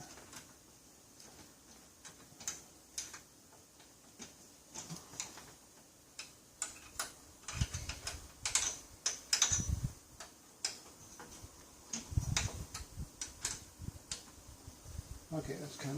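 Close, irregular ticks and ratcheting clicks of bolts being snugged up by hand, scattered sparse at first and then in denser clusters, with occasional low thumps.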